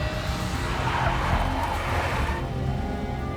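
Car tires skid on a black Mercedes in the Max Payne video game, a loud continuous screech with engine roar that holds steady for about two and a half seconds before easing off slightly.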